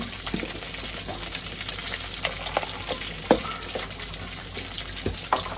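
Onion, green chilli and curry leaves sauté with mustard seeds in hot oil, giving a steady close sizzle broken by several sharp scrapes and clacks of a stirring spoon against the pan.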